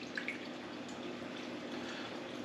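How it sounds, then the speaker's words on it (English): Brine of water, vinegar and salt poured from above into jars of pickled eggs, a faint steady trickle and splashing of liquid with small drips, quiet and continuous throughout. "now we're gonna top these off with our brine"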